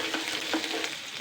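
Chopped garlic and onion frying in a pan, a dense close sizzle with faint stirring scrapes, steady and loud throughout with no voices.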